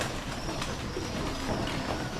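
Pigeons coo softly in a loft, low murmuring calls layered over a steady hiss of background noise, with no voices.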